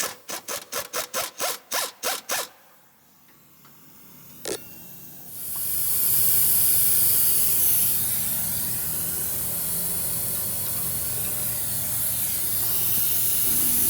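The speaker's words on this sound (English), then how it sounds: "you can use another wrench or the air gun to remove the other side of the bolt" A pneumatic impact gun works a front lower control arm bolt on a Toyota GR86, firing a series of sharp, rapid rattling bursts that give way to a long, loud hiss of air.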